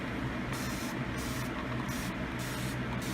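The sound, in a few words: spray bottle spraying hair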